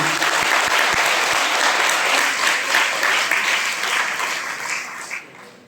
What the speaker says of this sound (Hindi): आप सबके स्पॉन्सर के लिए एक जोरदार ताली होनी चाहिए